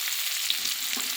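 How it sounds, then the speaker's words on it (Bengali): Onion sizzles and fries steadily in a hot pan for a Bengali fish curry with cauliflower, a continuous close crackling hiss with small pops throughout. "পেঁয়াজটা ভাজা ভাজা করে নেব।"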